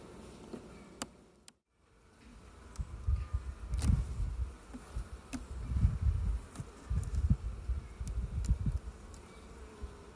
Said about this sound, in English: there's bees in there. There are bees in here.